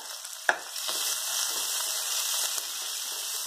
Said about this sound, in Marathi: कांदा सोनेरी उकळून त्यातून आता मी भाजून घेईन।